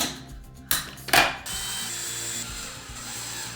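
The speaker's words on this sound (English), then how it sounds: "just drill in some screws into my base just to make sure that everything's locked in place" A power drill drives screws into a wooden circular saw straight-edge jig base, opening with short ratcheting clicks and a sharp bite, then settling into a steady close motor whir, with no talking.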